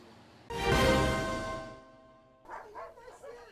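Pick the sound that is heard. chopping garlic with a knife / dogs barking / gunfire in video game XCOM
dogs barking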